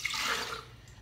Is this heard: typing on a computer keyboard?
no